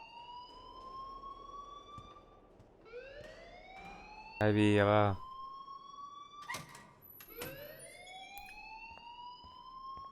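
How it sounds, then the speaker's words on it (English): A school alarm in the video game Life is Strange rings as a repeating rising electronic wail that sweeps up again and again, with a brief loud burst midway and a short spoken line over it. "please turn off that alarm since that's your job"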